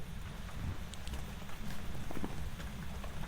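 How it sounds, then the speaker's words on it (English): Heavy rain pours over a farmhouse in the ghost-hunting video game Phasmophobia, a dense continuous patter with scattered sharper drops and a gusty low rumble, loud and steady with no talking. "Gosh, that rain's so loud."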